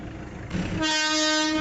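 Darjeeling toy train at the station sounds a short horn toot, a bright sustained tone starting after a rumble of station noise, fairly near and alone without talk.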